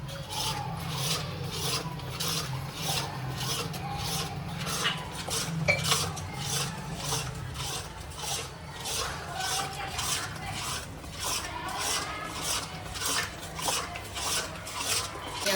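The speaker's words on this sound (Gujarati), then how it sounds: "હવે છે ને અડદિયાનો લોટ શેકાય છે ઘીમાં" Adadiya flour roasting in ghee is stirred steadily, a continuous scraping rasp of a spoon against the pan, close and loud with a regular rhythm and no talk.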